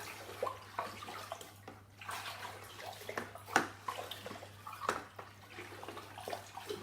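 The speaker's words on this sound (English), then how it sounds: "I'm just going to give it another pretty vigorous stir." A sugar wash for distillation is stirred vigorously, sloshing and splashing in uneven bursts over a low steady hum, with no voices.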